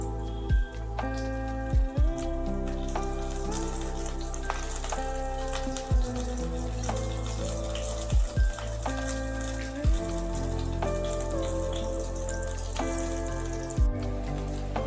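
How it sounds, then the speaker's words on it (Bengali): Coated eggplant pieces dropped into hot oil give a steady, close crackling sizzle with scattered pops, lasting throughout over a tonal background hum. "এবার তেল গরম হওয়ার পর আমি কোট করে রাখা বেগুনগুলো এর মধ্যে দিয়ে দিচ্ছি।"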